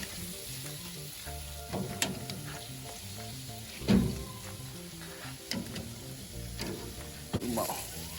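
Ham sizzles and fries steadily on an outdoor cooker, a constant crackling hiss broken by occasional louder pops and scrapes.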